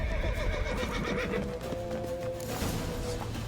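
A horse in The Witcher 3 neighs loudly amid galloping hoof clip-clops and game background noise, close and continuous throughout.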